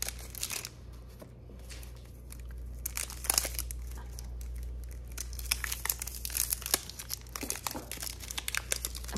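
Wrapped packs of trading cards are torn open close by, with crisp crinkling and tearing of wrappers in irregular bursts over a low steady hum.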